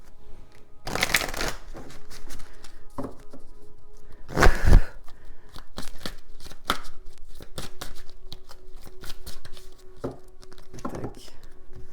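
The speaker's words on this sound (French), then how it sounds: "Allez, je vais bien mélanger le jeu." A deck of cards being shuffled thoroughly on a tabletop cloth, with repeated riffling bursts and soft slaps of cards, close and steady, while someone talks quietly over it.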